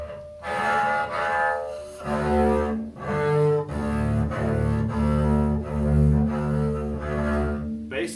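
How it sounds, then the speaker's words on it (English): A beginner draws a bow across a double bass in long, uneven sustained notes, deep and somewhat scratchy, each stroke separated by brief pauses, played close and alone. "Your beginning bass sounds might sound like this."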